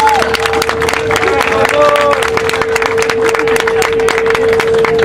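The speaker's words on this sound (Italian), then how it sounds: "Un forte applauso, grazie." Outdoor audience applauding steadily at an April 25 street gathering, a dense continuous wash of clapping with crowd noise, loud and sustained throughout while a steady tone hums beneath.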